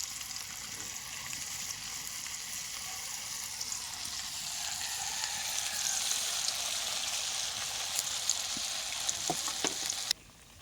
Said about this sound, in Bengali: একে সবগুলোই দিয়ে দেবো তেলের মধ্যে